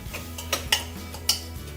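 A utensil scrapes and clinks against a clay pot while turmeric and salt are stirred in for chicken gravy, a few distinct knocks over a low steady hum.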